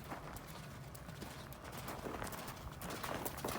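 A horse canters in a riding arena, hooves striking the ground in a quick, steady rhythm over a dense, noisy background, moderately close, with no clear talk.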